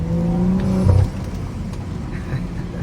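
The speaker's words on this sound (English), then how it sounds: "you can hear the overrun drop and the intake right after" BMW engine heard from inside while driving, a steady low intake drone that drops off sharply partway through into a quieter rumble with faint crackles on overrun, no talking.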